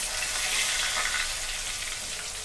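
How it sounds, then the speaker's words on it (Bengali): Potatoes frying in a pan of hot oil give a steady, close sizzle with a bright hiss and no talking. "আলুগুলোকে আমি লাল লাল করে ভেজে"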